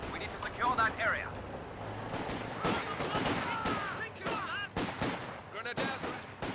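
Gunfire in the World War II strategy game Company of Heroes 2, sharp repeated shots and bursts scattered across the moment, mixed with unit voice callouts and other battle noise.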